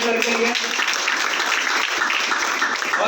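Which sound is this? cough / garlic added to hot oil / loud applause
loud applause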